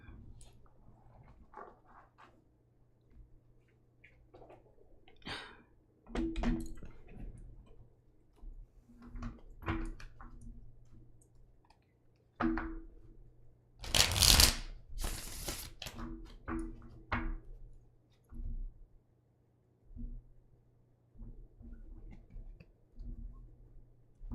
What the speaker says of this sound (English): Dropping cards on the floor.